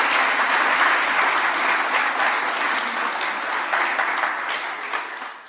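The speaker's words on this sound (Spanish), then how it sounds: "mandemos un aplauso a nuestra gente en América Latina" Sustained church audience applause at a Latin American revival gathering, loud and steady throughout, a dense wash of many hands clapping without pause that tapers slightly toward the end.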